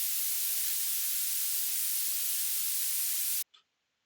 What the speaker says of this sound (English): Then for the white noise.